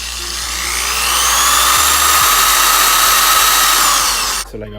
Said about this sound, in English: So let me go ahead and start drilling